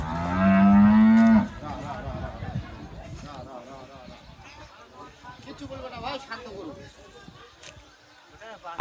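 A loud, low moo from a dairy cow that has calved for the first time opens, followed by shuffling, movement and people talking nearby.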